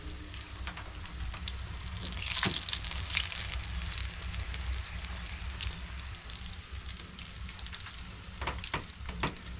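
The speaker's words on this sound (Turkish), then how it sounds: "Yavaş yavaş pişmeye başladı." Çi börek frying in oil gives a soft, continuous crackling sizzle at moderate distance, swelling briefly in a few louder bursts, with no talking.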